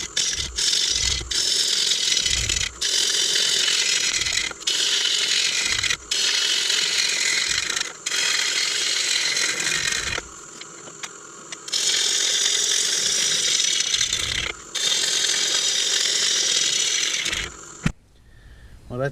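Walnut live-edge bowl blank spins on a wood lathe as the tool nibbles at the corners, giving a loud, sustained ratcheting chatter broken by brief pauses, with a short burst of voice near the end.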